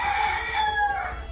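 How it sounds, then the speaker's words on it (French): A farmyard rooster crows one sustained cock-a-doodle-doo near a home garden, clear and fairly close, with no talking over it. "Et le coq est d'accord."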